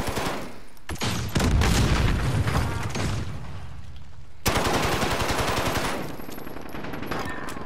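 Dense, rapid automatic gunfire in the video game Gunfight, loud and close, with sustained bursts that pause briefly before another long volley resumes.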